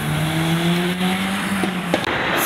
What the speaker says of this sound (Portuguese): Vindo ali o pequenino Smart Fortwo